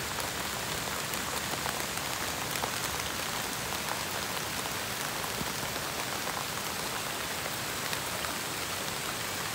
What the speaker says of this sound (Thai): ฝนตกดีขนาด